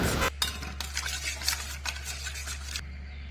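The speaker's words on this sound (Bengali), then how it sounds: "মশলা ভালোভাবে মিক্স করে নিয়েছি" A spoon stirs a spice mix of salt, turmeric and Kashmiri chili powder for begun bhapa, giving soft scraping and clinking strokes in a bowl over a low steady hum, close and fairly quiet.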